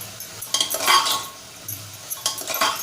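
A spoon stirring garam masala, turmeric and Malvani masala into sprouted chana usal in a pan, with short bursts of metallic clinking and scraping separated by brief quiet gaps, close and clear with no talking.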